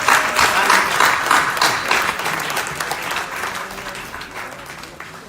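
Audience at a 2018 event in Gambia applauding Professor PLO Lumumba after his speech, a full, loud burst of crowd clapping that gradually thins and softens over several seconds.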